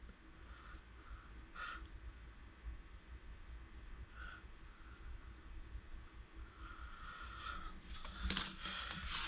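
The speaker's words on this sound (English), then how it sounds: "actual metal coin sounds" A few soft metallic clinks from Darwin's Journey board game metal coins, faint over a hissy background, ending in a brighter cluster of close coin jingles, no talking.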